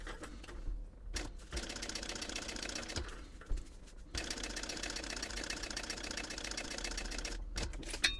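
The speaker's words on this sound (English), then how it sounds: "Now I want to sew or top stitch at a 1/8 inch seam allowance all the way around." A sewing machine top stitches a purse at a narrow 1/8 inch seam allowance, whirring close and steady in long runs broken by short pauses.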